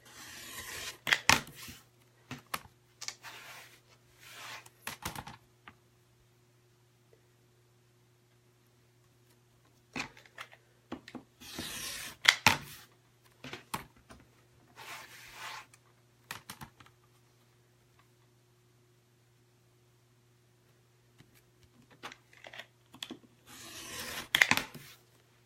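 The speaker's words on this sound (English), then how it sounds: "Let's cut this last one and then we'll finish this block." Fabric for a quilt block being cut on a cutting surface, heard as bursts of crisp scraping, slicing strokes separated by quiet pauses, fairly close and alone with no talk.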